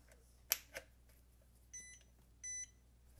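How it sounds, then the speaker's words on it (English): A Hota D6 Duo Pro charger gives two short electronic beeps during a firmware update. The beeps come in close succession after a couple of faint clicks, in an otherwise quiet room. "Okay, so it's beeping."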